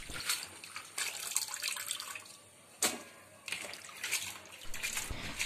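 Water runs from a kitchen tap as cut sword beans are rinsed, a soft hissing splash that starts and stops in several bursts, close and faint, with no voices.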